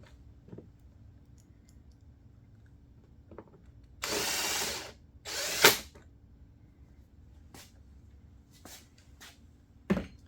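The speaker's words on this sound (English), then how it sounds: "let me stick a few more screws back in here" A power drill drives screws back into the casing of a 2021 Firman W2000i inverter generator, with two short whirring bursts close by followed by a few sharp clicks of parts and bits being handled.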